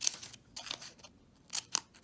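Scissors snipping through paper scraps, four or five short crisp cuts in an uneven rhythm, close and fairly quiet with no talking.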